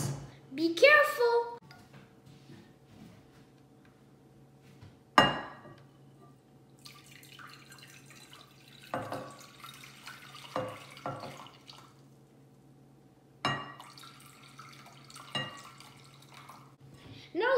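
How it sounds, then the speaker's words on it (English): Hot water is poured into a glass for a kids' water cycle science experiment, giving a few brief splashy bursts and clinks separated by quiet gaps, close and fairly faint, with a voice speaking at times. "First, let's pour the hot water in the glass."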